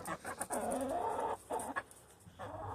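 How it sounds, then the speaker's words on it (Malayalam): Several backyard chickens cluck close by in short, repeated bursts, their calls rising and falling over a quiet yard. "ഞാനിവിടെ ഒരു മൂന്നാലഞ്ച് കോഴികളെ വളർത്തുന്നുണ്ട്"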